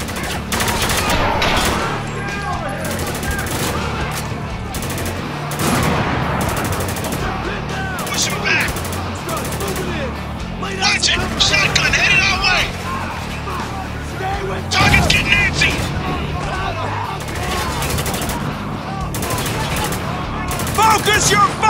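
Heavy gunfire in the military shooter Spec Ops: The Line, with rapid machine-gun bursts and repeated shots in a prolonged, loud firefight, punctuated by sharper blasts, with shouted voices heard between the volleys.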